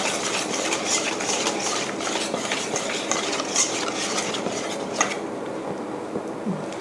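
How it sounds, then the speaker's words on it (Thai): Flour batter for fried bananas is stirred steadily and continuously, giving a close, even swishing and scraping with faint clinks of the utensil against the bowl, and no voice. "คนให้เข้ากันเรื่อยๆแบบนี้นะคะ"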